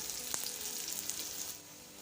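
Curry leaves and chopped onion sizzle in hot oil for Maharashtrian upma, a steady close crackle with a few sharp pops, and a brief stir near the start.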